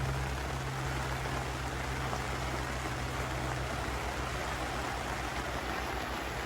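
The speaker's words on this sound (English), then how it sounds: "It's actually been raining since about 4 o'clock this morning." Steady rain falls on a campsite pitched near the end of an airport runway after a night thunderstorm, a constant soft hiss of drops with no voices and no break.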